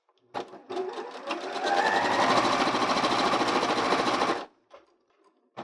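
A sewing machine stitches fabric for a clear 3D face mask, running in one continuous loud, rapid mechanical chatter of about four seconds that starts and stops abruptly, with brief clicks before and after.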